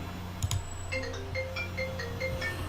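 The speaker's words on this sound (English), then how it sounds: "And that is my phone going on." A mobile phone rings nearby with a repeating electronic tone pattern, a short melodic sequence of bright beeps over a steady low hum, preceded by a couple of sharp clicks.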